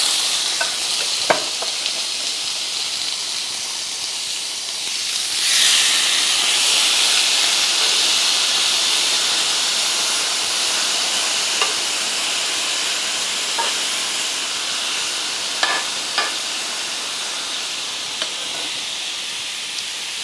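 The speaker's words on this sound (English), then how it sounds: "Just going to put some of this meat in here." Beef for teriyaki sears in a hot Dutch oven with a steady, loud sizzle. The hiss swells sharply as the meat goes in and then holds for the rest of the clip, with occasional small pops and scrapes.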